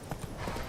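Horse hooves clip-clop in a quick, steady rhythm in The Witcher 3, a short burst of game sound effects heard alone without speech.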